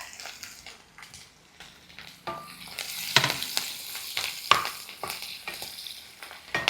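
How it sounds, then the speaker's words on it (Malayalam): Ginger, garlic and green chili fry in hot coconut oil with curry leaves, giving a steady close sizzle broken by repeated scraping stirs of a spatula, louder in the second half, with no talking. "വെളിച്ചെണ്ണ നല്ല ചൂടായി കിടന്നതുകൊണ്ട് അതെല്ലാം പെട്ടെന്ന് തന്നെ ഒന്ന് ഫ്രൈ ആയിട്ടുണ്ട്"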